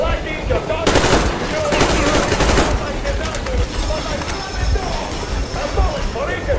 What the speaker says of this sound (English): I'm shooting you personally through your forehead!